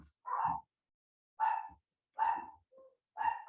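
Dogs barking in a home studio, four separate barks spaced about a second apart with a small yip between the last two, moderately distant and heard alone.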